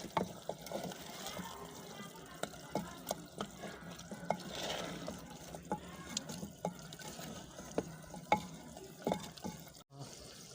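Beef frying with softened tomatoes for pulao, stirred in a pot: soft sizzling under repeated scraping clicks of a spoon, close and moderately quiet, with a voice heard now and then.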